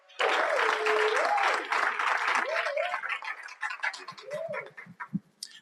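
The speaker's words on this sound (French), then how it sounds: "Applaudissons pour James." Audience applause greets a young Kenyan entrepreneur at a pitching session, with brisk clapping from a close crowd that tapers into scattered claps, with tonal sounds over it.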